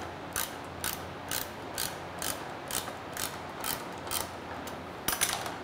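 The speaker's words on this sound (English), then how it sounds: "We'll set it in position and then we'll torque it down." A ratchet wrench clicks in steady repeated pulls while torquing down an aftermarket exhaust on a Porsche 991 GT3, faint and close with no talking.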